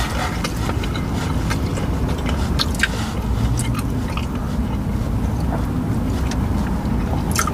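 Steady close-up chewing and crunching of hard pieces of tropical grilled food, with continuous mouth noise and scattered crisp bites over a low rumbling background.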